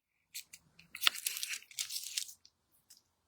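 Scissors snip and crunch under plastic packaging while a craft-supply box is opened, a few short bursts of crinkling and tearing followed by a longer crackly stretch, close and fairly quiet.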